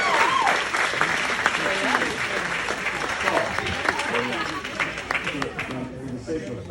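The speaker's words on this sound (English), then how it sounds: "Just a round of applause for yourselves." A wedding crowd of family and friends applauds together at a best man speech, dense steady clapping filling the room and slowly thinning out toward the end.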